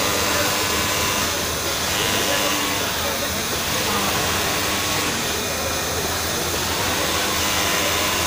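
A 4-thread overlock sewing machine closing the side seam of a short-sleeve knit T-shirt, running as a steady, loud, continuous whir with no pauses.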